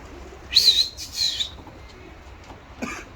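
Mardin play pigeons are tossed into the air, a few loud bursts of wing flapping close by, then quieter flutters and a final flap as the birds climb away.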